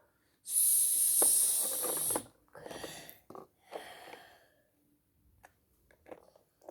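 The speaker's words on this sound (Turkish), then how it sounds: "Bu bir yılan." A snake's hiss, played as a recorded sound card during home speech-therapy practice, opens with a loud, steady, breathy rush lasting under two seconds. Softer scattered sounds and brief quieter hisses follow.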